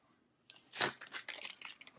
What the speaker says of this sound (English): I'm like pressing it as I'm peeling it away